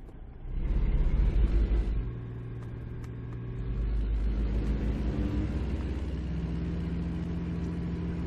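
A truck drives along a Texas road in American Truck Simulator, its engine a steady low rumble that swells briefly near the start, then settles into a continuous drone.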